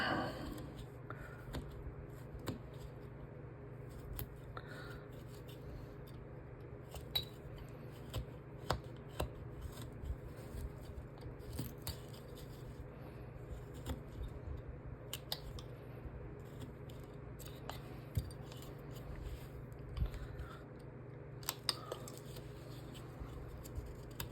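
A knife carves a wooden cowboy bottle topper figure, producing faint, scattered sharp clicks and small scraping cuts at an irregular pace over a quiet background.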